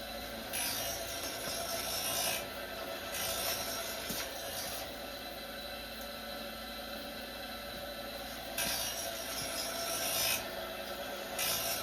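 An air bearing grinder makes a soft, continuous rasping hiss as it passes over a 36-inch cast iron straight edge, swelling slightly in repeated sweeps, fairly quiet and without voices.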